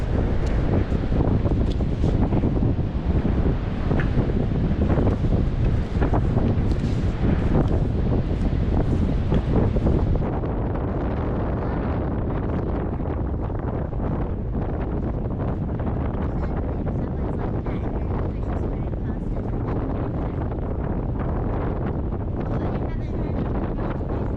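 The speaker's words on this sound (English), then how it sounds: "it's pretty windy at the moment" Strong wind on the coast of Southland, New Zealand buffets the microphone in a steady roaring rush, loud throughout and easing slightly midway.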